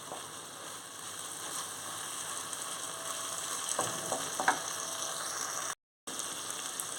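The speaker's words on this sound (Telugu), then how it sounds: "స్టవ్ మీద కళాయి పెట్టుకొని ఒక స్పూన్ ఆయిల్ వేసుకొని గోంగూరని శుభ్రంగా వేయించుకొని" Gongura (sorrel) leaves fry in a spoonful of oil in a kadai on a stovetop, giving a steady, close sizzle that runs almost unbroken, with a few light stirring clicks along the way.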